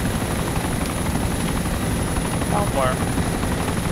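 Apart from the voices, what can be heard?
helicopter landing in the video game DayZ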